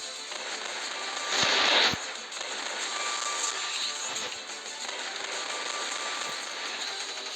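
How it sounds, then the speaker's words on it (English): The Piñata Party weapon in the mobile shooter Respawnables fires pellets in a dense, unbroken crackling stream, with a slightly louder burst near the start, and keeps going at an even level throughout without any talking. "just look at how fast this thing is firing pellets"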